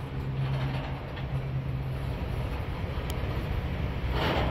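A CSX freight train rolls past in Hamilton, Ohio, a steady low rumble with a faint hum, heard at a distance with wind noise on the microphone.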